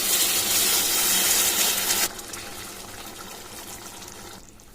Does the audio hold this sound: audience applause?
no